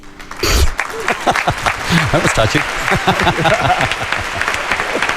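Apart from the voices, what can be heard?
recorded applause track played on radio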